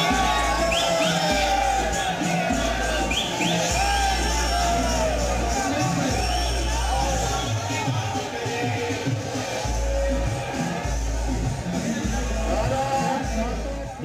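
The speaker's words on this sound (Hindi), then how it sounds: "बड़ी संख्या में देखने वालों की भीड़ लग गई, जय श्री राम के नारे लगने शुरू हो गए।" A dense crowd at a political rally where bulldozers put on a show shouts and cheers loudly and continuously, with chanting voices over a low, pulsing rumble.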